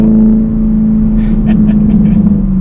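A 2021 Chevrolet Camaro 2SS cruises with a steady, loud engine drone heard from close by, while faint voices or cabin sounds drift in over the second half.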